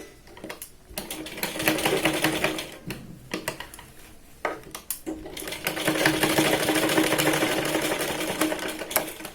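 Sewing machine stitching blouse fabric, with rapid mechanical stitching in bursts separated by short pauses, then a longer steady run; close and loud, no talking.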